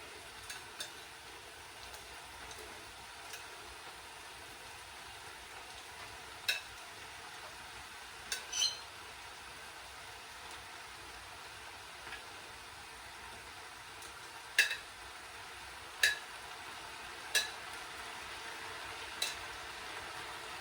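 Beef, peppers and onion fry in a pan over medium-high heat, giving a soft continuous sizzle. Occasional faint clinks of a utensil against the pan come at scattered intervals.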